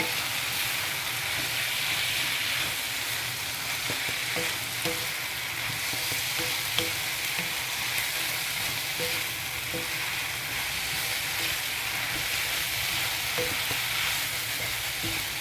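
Spinach leaves wilting with cooked linguine and fish in a pan, a continuous broad sizzle steady and fairly close, with faint intermittent clinks of stirring.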